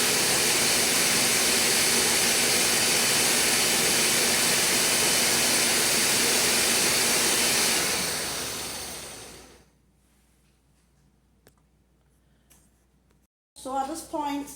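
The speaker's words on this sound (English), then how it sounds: "we are still very much blending" A kitchen blender whirs loudly and steadily while blending beans smooth for Nigerian bean cake, then winds down and stops, followed by a short stretch of near silence and a brief burst of speech at the end.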